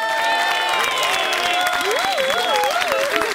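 Studio audience on a French game show applauding and cheering for a contestant team, a steady dense wash of clapping and crowd noise throughout, with music tones running over it.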